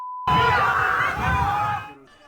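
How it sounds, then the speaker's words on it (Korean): A crowd boos and jeers loudly at a speaker at a podium during a public address. The dense, sustained roar of disapproval lasts about two seconds, dips slightly midway, then fades. "야유는 연설이 끝날 때까지 계속됐습니다"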